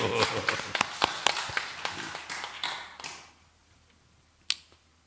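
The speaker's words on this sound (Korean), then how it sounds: "감사의 박수" A small church congregation at a dawn worship service gives a short round of thanks with scattered, sharp claps that thin out and die away, leaving near silence broken by one last clap.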